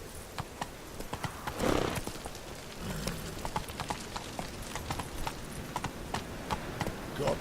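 Horse hooves clip-clop in a steady rhythm in The Witcher 3, close and clear against a soft ambient bed, with a brief louder rustle near the start.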